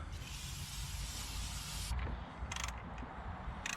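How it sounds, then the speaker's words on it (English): An aerosol can sprays onto the exposed pistons of a K24 engine being swapped into a Honda Civic Si FG2. A steady, close hiss runs for about two seconds, then two short spurts follow. "Now I'm gonna spray these."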